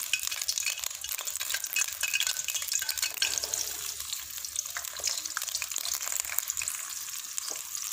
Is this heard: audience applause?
no